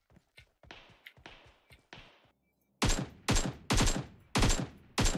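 Gunfire in the video game PUBG Mobile: quick, lighter shots in an uneven string, a short pause, then five loud, booming bursts in a steady rhythm, close and without talk.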